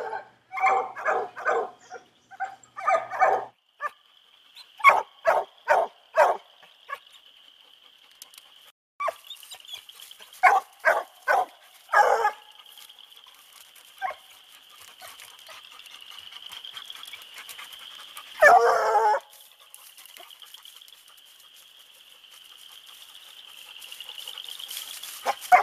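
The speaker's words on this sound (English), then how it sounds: "let the young dog play the tree" Coon dogs baying at a treed raccoon during a night hunt, a young dog working the tree; loud repeated barks in bursts with pauses, set against a steady high insect drone.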